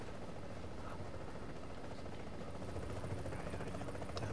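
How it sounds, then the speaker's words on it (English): Helicopter in the video game The Division, a steady whirring rotor drone filling the scene with continuous dense noise, no breaks or distinct beats. "Damn chopper."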